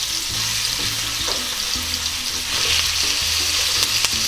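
Chicken pieces sizzle and fry in a hot pan for chicken curry with black mushroom. Loud, continuous frying hiss is broken by repeated scraping stirs, with no talking.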